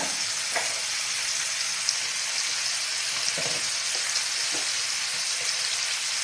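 Vegetables sauté in a hot pan for a home-style Bengali chicken stew, a steady close sizzle of frying with occasional stirring scrapes, continuous and fairly loud.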